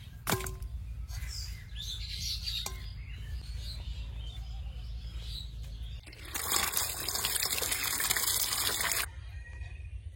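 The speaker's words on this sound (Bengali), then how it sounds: "চার পাঁচবার ধুয়ে নিয়েছি মাছটা।" Koi fish being washed in water gives soft swishing and dripping, then a louder gushing pour for a few seconds, with faint bird chirps in the background.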